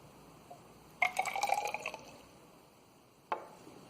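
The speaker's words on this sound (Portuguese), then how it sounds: "Vou colocar primeiro a água." Water is poured into a larger tube for a mixtures demonstration in a brief, quiet trickle lasting about a second, followed by a single soft drip-like splash.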